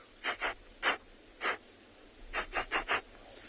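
A voice imitates an agitated black rhino with a series of sharp, breathy snorts, first spaced out, then in a quicker cluster of four, close and alone.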